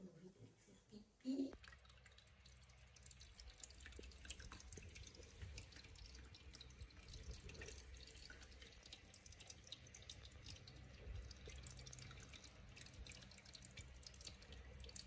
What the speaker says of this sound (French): on le met parce qu'on entend toujours l'eau couler